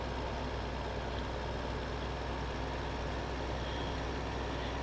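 A farm vehicle in Farming Simulator 15 drives out, its engine giving a steady low rumble and drone, alone and fairly quiet throughout with no voices.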